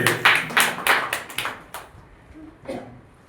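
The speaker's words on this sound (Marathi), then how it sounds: "टाळ्या." A scattered burst of audience claps rings out at a school prize distribution and felicitation ceremony, loud at first, then thinning into a few isolated claps that fade away.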